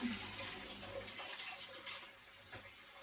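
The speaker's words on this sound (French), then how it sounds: "Je rince mon riz." Sushi rice being rinsed in water, a steady wash of sloshing, running water that stays fairly constant and moderately close throughout, with no voices.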